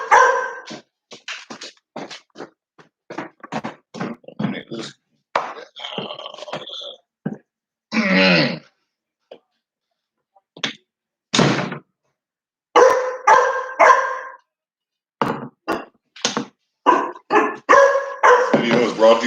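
Cane Corso puppies bark indoors in a run of short, sharp yelps and barks, irregularly spaced and fairly close, with brief quiet gaps between bursts.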